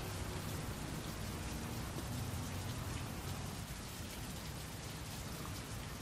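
Heavy rain in the video game Heavy Rain, a continuous, even downpour hissing and pattering on surfaces, soft and unbroken throughout with no voices.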